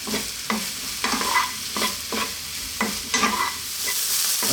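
Eggplant being stirred in a frying pan, several scraping stir strokes in an uneven rhythm over a steady close sizzle, with no talking.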